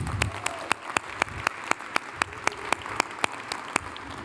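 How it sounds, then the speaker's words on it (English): Audience applause at an award honorees event, a steady round of clapping from a seated crowd with sharp, regular louder claps standing out, continuing throughout without any talk. "give Trey a big round of applause"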